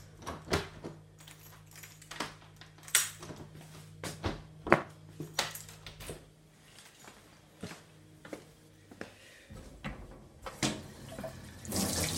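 Kitchen sink tap in a rented house running water, with clattering knocks and taps of handling throughout and a steady low hum under the flow.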